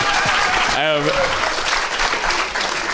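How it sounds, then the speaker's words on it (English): Audience applause at a live Halloween special podcast recording, a steady dense wash of clapping throughout with a voice briefly speaking over it near the start. "round of applause for Longlegs"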